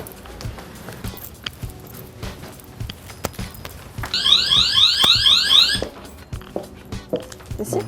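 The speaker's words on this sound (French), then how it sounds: "je crois que vous avez déclenché l'alarme" A shop's anti-theft security gate alarm goes off in a store, a loud pulsing electronic tone lasting about two seconds over background shuffling and footsteps.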